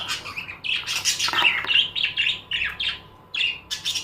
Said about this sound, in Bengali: এই দুজোড়া আমার কাছে এখানে লাভবার্ডস আছে।